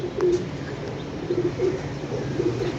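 Pigeons coo softly in a repeated, low throaty rhythm against faint outdoor background noise.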